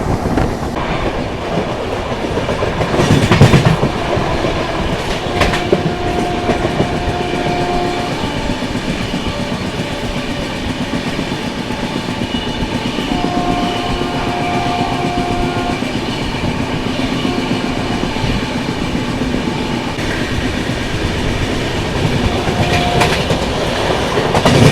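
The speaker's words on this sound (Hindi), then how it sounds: "अभी यहाँ पर अपनी राजधानी एक्सप्रेस अभी स्किप करने वाली है आगरा छावनी रेलवे स्टेशन को" Rajdhani Express train in AC 3 tier coach running through Agra Cantt station on a foggy winter morning: continuous loud rumbling and rhythmic clatter of wheels over rail joints, with brief tonal squeals, heard from inside without talk.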